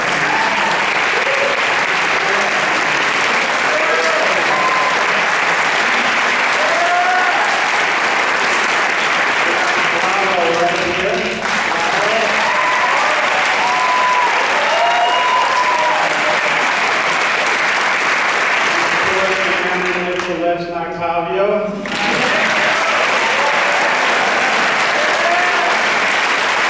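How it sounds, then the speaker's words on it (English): An audience at an evening gathering for a film about the Hot Doug's hot dog restaurant breaks into sustained, dense applause lasting the whole stretch, with cheers and faint voices mixed into the clapping. "we'll give him a round of applause"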